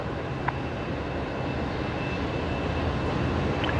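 Boeing 777 jet taxiing at Brisbane Airport, a steady distant engine roar that holds evenly throughout, with no voices over it.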